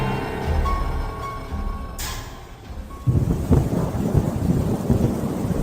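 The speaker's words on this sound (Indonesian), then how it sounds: "Malamnya, hujan angin seperti tidak biasa." A heavy night storm of wind and rain, with a sharp crack of thunder followed by dense, steady rain hiss and low rumbling that swell louder and stay close for the rest of the stretch.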